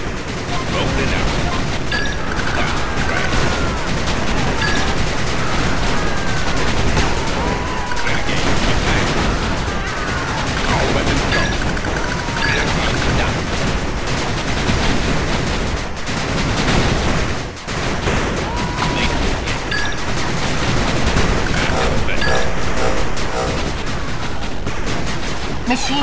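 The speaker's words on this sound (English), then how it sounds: "Machine gun turret under attack." Dense, continuous gunfire and explosions in the real-time strategy game 8-Bit Armies as units attack a machine gun turret, a loud unbroken barrage of shots and booms throughout, with game voice lines mixed in.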